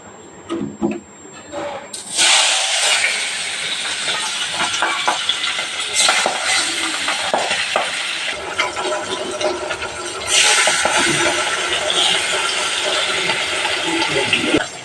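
Papda fish dropped one by one into hot oil in a wok set off a loud, sudden sizzle that hisses on steadily, with a second surge later and some clattering handling noise.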